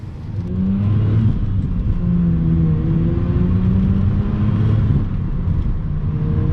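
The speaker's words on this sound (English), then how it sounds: "This thing is an absolute blast to drive." A 1992 Mazda RX-7 FD sports car drives past close by, its rotary engine droning at a steady, strong pitch with a low rumble and a slight rise as it pulls, with no voices.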